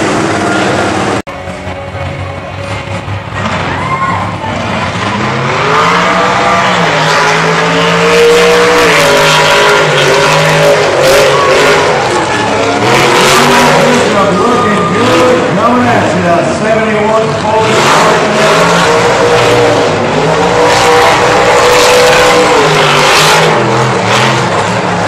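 Monster truck engines revving and roaring at a Vermonster spring event, loud and continuous for about 25 seconds, with surging throttle pulses and shifting pitch. A crowd and an announcer are heard over it.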